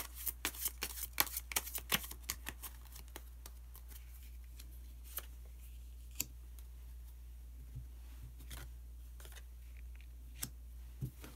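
Tarot cards are shuffled with quick, dense riffling clicks at close range, then slower scattered flicks and taps as cards are drawn and laid down, with no one talking.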